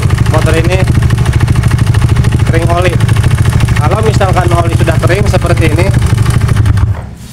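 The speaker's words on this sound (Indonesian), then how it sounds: "Suara nerektek ini entah dari mana. Kemungkinan dari mesin karena motor ini kering oli" Motorcycle engine running dry of oil, idling with a loud, steady rattle and clatter close by, while someone talks over it before the engine cuts off near the end.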